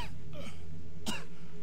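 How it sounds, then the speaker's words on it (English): Two short harsh coughs, close by, the second a rougher burst about a second after the first, over a low steady hum with no talking. "Cough up your lungs, that's okay."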